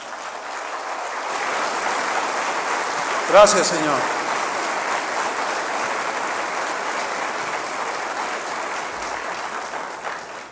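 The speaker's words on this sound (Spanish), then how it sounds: "Dale un aplauso al Señor." A church congregation applauds steadily and fairly loudly, a broad wash of clapping held throughout, with a single voice briefly speaking over it.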